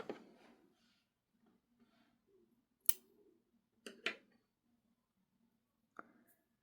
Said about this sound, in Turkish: Bir zincir çekip makasımla kesiyorum.